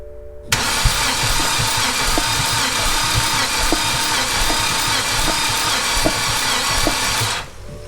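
A BMW 528xi engine from an E60 with flood damage cranks on the starter during a compression test, a steady rhythmic churning that starts abruptly, runs about seven seconds at close range and stops without firing.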